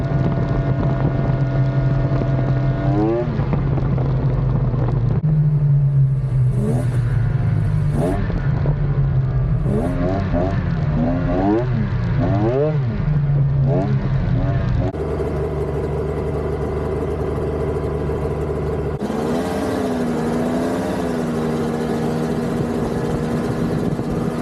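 A Sidewinder triple-engine snowmobile runs at a steady loud drone with rising and falling revs, close up, and wind buffeting the microphone throughout.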